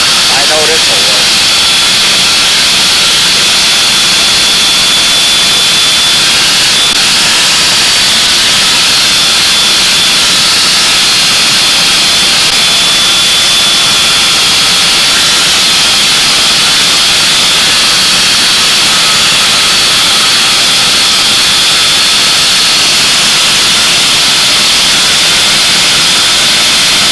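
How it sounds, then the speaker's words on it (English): A power sander strips finish off a model aircraft part, a loud, constant high-pitched roaring hiss that runs unbroken from start to finish. "I'll use the power sander."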